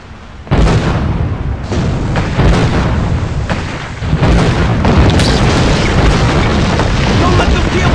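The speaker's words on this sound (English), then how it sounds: "Get on that keelboat cannon and blast those boats." Heavy, continuous booming blasts of a keelboat cannon in the video game GUN, loud and close, rolling into one another with a dense rumbling roar throughout.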